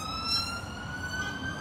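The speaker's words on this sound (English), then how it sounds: "Mo tin gbo hun ambulance abolopa" Emergency siren wailing steadily at a distance in a Nigerian street, a sustained tone that holds for the whole stretch over low traffic rumble, with no talking.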